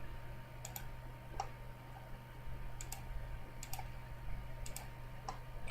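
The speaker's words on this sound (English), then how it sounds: "Let's click all one by one" A computer mouse clicks while someone works in SolidWorks, producing sharp, quiet single and double clicks at irregular intervals over a low steady hum, with no speech.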